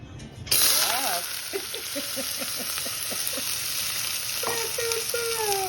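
Finely chopped onion, chives and chili fry in very hot oil with a loud, steady, close sizzle that runs almost the whole time, and a few brief voice-like tones sound above it.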